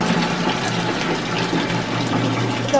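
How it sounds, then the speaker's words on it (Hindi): Bathing water being pumped in Basar, Arunachal Pradesh, a continuous close gush of water pouring and filling with a steady low mechanical hum beneath. "ये मेरा नहाने का पानी."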